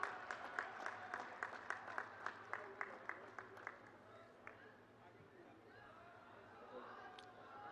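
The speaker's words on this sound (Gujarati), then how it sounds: "તાળીઓના ગડગડાટથી ફરીથી વધાવીશું।" Applause at a Gujarati political rally welcoming guests on stage, a quick train of claps over the first half that thins out and gives way to a low murmuring crowd.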